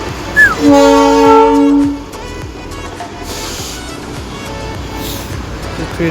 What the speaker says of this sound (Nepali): ट्रेन जाँदैछ हो